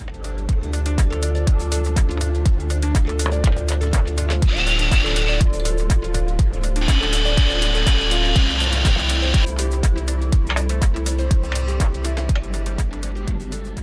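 A power drill runs steadily and loud with a rhythmic grinding chatter, biting through material near a solar panel on a sailboat, in a continuous close-up stretch.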